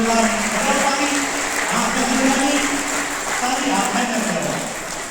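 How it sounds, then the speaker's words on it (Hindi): Pupils at a Saraswati Vidya Mandir school clap for themselves, steady applause from many hands filling the room throughout, with voices talking and calling over it. "सारे बच्चे अपने लिए ताली बजाएंगे"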